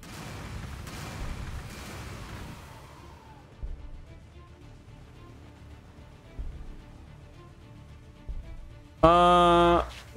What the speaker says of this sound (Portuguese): Frag, vai morrer tudo.